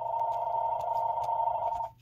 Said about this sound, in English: I'm just gonna ignore the phone.